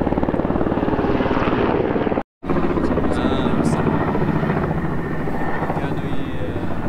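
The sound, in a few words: Russian helicopters flying over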